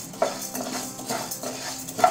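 Dry sago pearls being stirred in a hot pan while roasting for chakli bhajani flour, giving a steady soft scraping and rustling with a few sharper clinks, close and alone.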